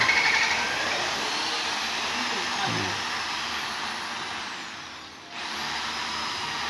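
A power drill with a drill bit bores into a house post while a house is being raised, giving a steady whining drone that dips briefly near the end before resuming.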